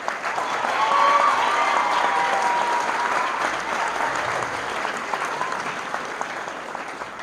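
Audience applause at a high school valedictory assembly, a sustained wash of clapping that swells early, then slowly eases off over several seconds, with faint crowd noise beneath.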